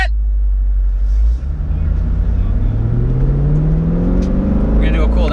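A Camaro SS engine drones steadily through a slow cool-down lap after drifting, its pitch rising gradually as it accelerates, with no talk.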